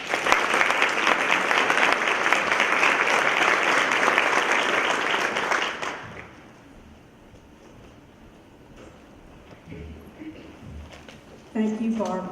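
Audience applause at an education training session as a state secretary is welcomed to the stage, a loud, dense sustained clapping for about six seconds that then drops away, followed by quieter room noise and a voice starting to speak.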